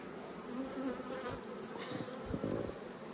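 Bees buzzing at a beehive in an Australian apiary: a faint, continuous hum with individual insects droning past close by at moments, and no talk.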